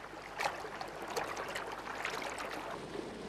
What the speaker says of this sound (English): Red-winged starlings bathe in the river.